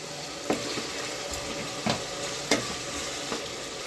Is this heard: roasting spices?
yes